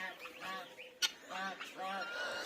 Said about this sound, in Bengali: চিনাহাসগুলো হাঁসগুলো এই যে বেরোচ্ছে